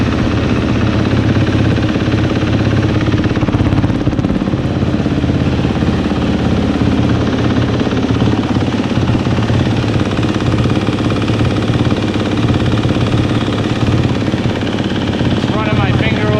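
KTM race bike engine runs continuously after starting, a loud, steady, buzzing drone close by, with a person speaking over it at times.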